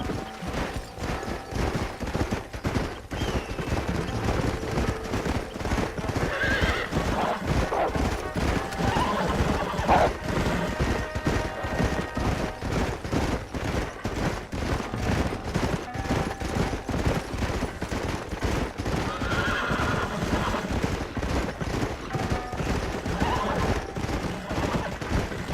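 Horses in the Western video game Red Dead Redemption whinny and clop along at a steady hooved rhythm, with bursts of distant gunfire layered over a continuous game soundtrack.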